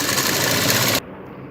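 A sewing machine stitches a folded half-inch hem on a salwar, running as a loud, close, steady rapid whir for about a second before stopping abruptly.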